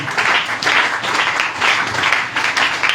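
A church congregation applauds with dense, continuous clapping that swells and pulses in waves, loud and close, with faint voices mixed in.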